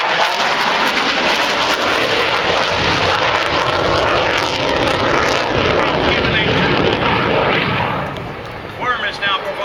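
F-18 jet flying at the Stuart Air Show, a loud continuous roaring engine rumble that fades slightly near the end, with an announcer talking over it.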